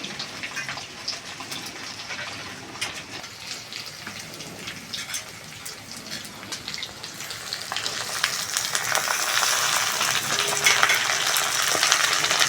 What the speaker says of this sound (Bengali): পেঁয়াজ কলিটা দিয়ে অল্প একটু নেড়ে চেড়ে ভেজে নেব